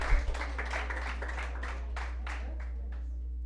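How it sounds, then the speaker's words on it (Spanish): A church congregation applauds during a sermon, with a burst of clapping that thins out into scattered claps over a steady low hum. "Dale un aplauso al Señor de gozo si se está gozando con esta palabra."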